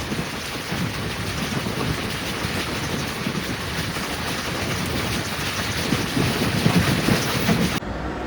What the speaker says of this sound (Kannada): ಅಷ್ಟು ಚೆನ್ನಾಗಿದೆ ಟ್ರೈನ್ ಜರ್ನಿ.